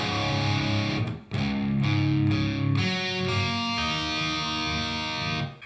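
Distorted electric guitar in drop D tuned down half a step plays heavy riffing chords for a song, loud and continuous with short breaks near the start and no talking.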